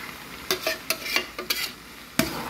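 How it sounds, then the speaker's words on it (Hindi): Gajar pak, a carrot sweet, is stirred in a pan with a spoon scraping in quick irregular strokes over a soft sizzle, close and fairly quiet, with no talk. "साथ में ये देखो गाजर पाक भी बना रही हूँ"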